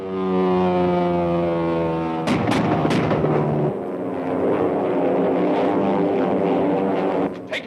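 A propeller plane from a 1937 Dick Tracy serial drones with steady, tonal engine hum, broken by a few sharp bangs before the droning carries on, with no talking.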